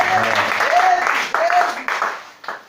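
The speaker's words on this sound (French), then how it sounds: "Acclamez pour vous-même." A church congregation applauds during a lively service, a dense wash of clapping that fills the space alongside a voice speaking over it, swelling and dipping in bursts.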